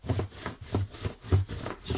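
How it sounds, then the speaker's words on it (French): A balloon is rubbed back and forth along a t-shirt to build static, producing rhythmic soft squeaky rubbing strokes, about four passes in two seconds, close and fairly quiet. "Le ballon, vous le frottez le long de votre t-shirt."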